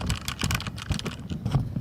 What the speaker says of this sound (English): So for you to be able to have an example on how the keyboard sounds like.